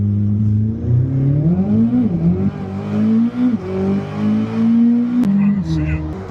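A 1,064 HP Corvette ZR1 pulls hard up a smooth freeway on-ramp, its engine note climbing and dropping through loud in-cabin revs and gear changes, with occupants talking over it.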